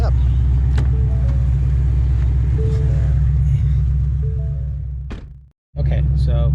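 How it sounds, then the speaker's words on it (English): A car with a Ben Calimer Stage 3 MT-82 manual gearbox rumbles steadily at close range, engine drone loud and constant, then cuts abruptly to near silence before a brief sound returns. "let's see if we can launch the car like a normal person"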